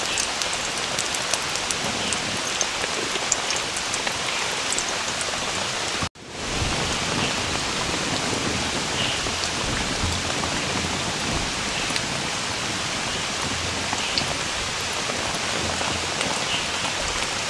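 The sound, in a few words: heavy rain outside while camping by a river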